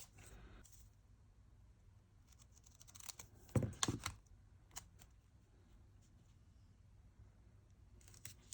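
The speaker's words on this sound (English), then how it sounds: "I'm just going to come in with scissors and cut" Scissors snip through perforated washi tape in a quiet crafting setting, giving a short cluster of close, crisp cuts midway through.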